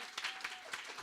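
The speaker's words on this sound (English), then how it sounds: "give her a round of applause" A graduation audience at a child development centre claps for a commentator, a short, soft burst of scattered hand claps heard from a distance.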